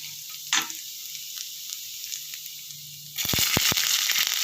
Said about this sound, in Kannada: ಸ್ವಲ್ಪ ಜೀರಿಗೆ, ಕಡಲೆಬೇಳೆ, ಉದ್ದಿನಬೇಳೆ, ಇದು ಸ್ವಲ್ಪ ಕಡಲೆಬೇಳೆ ಎಲ್ಲ ಕೆಂಪಿಗೆ ಹಾಕ್ತಿದ್ದಂಗೆ